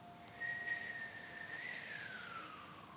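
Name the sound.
whistling inhale of Kundalini yoga whistle kriya breathing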